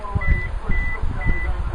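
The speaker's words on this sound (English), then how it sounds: "the car will chime a few times to let you know that it's lost detection of the proximity key detector" A 2014 Suzuki Swift chimes three times as its proximity key loses detection, evenly spaced electronic tones outdoors over low background rumble and movement.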